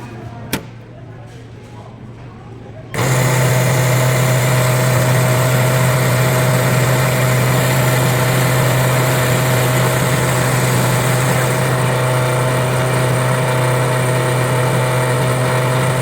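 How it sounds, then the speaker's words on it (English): A coffee machine grinds beans and brews, starting after a quiet moment with a sudden steady motor roar and whine that stays loud and unbroken to the end. "I thought the machine was going to stop by itself, but you actually have to hit the button again to stop it"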